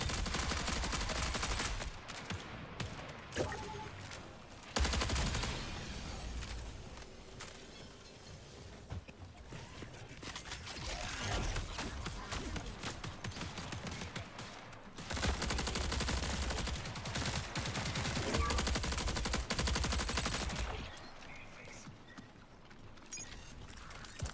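Gunfire from the video game Marathon fills the scene with dense, loud bursts and rapid volleys that continue almost without pause, broken only by brief lulls, with no talk heard.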